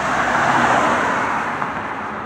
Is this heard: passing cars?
yes